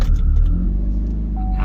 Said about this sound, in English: let's see what happens when I crank this up